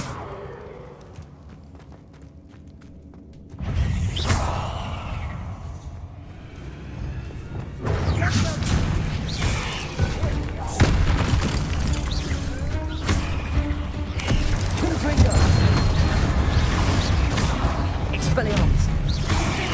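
Spells are cast and Bombarda blasts go off in the Hogwarts Legacy video game: a quiet stretch, then sudden loud booming bursts that swell into dense, sustained rumbling and crackling effects.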